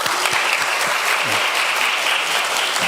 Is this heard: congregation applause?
yes